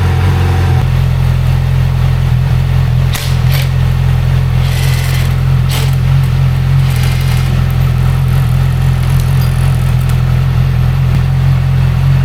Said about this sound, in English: Start the bike, let the oil warm up a little bit.